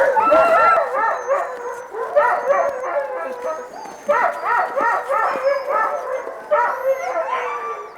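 Several sled team dogs bark, yip and howl excitedly close by, overlapping in eager bursts with whimpering pitches rising and falling throughout.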